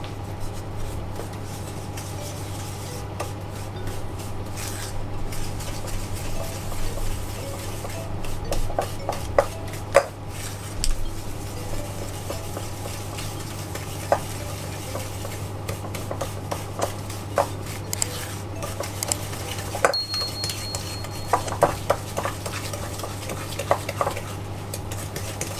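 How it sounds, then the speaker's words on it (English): Vegan butter, brown sugar, caster sugar and a little vanilla extract being mixed in a bowl, heard as repeated close scraping and light knocks of a utensil over a low steady hum. "I'm going to start by mixing these ingredients together"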